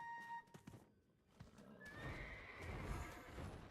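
Horse neighing in a video game, a shrill whinny at the start, then the clatter of hooves building into a steady rumble, fairly quiet overall.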